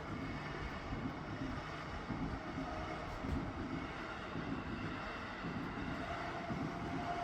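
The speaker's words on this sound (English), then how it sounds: "Just that rhythmic like click clack of the train on the rails as it crosses" A train passing over a level crossing in Japan, a steady low rumble of wheels on rails heard from a distance, continuous and fairly faint with no clear separate clacks.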